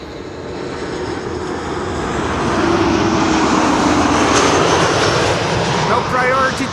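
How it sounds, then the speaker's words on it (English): Steady engine roar from a KLM Boeing 737 passenger jet arriving from Hamburg and landing at Schiphol, swelling louder midway and holding a broad sustained rumble, heard from a distance. "This is KLM flight 1754 arriving from Hamburg."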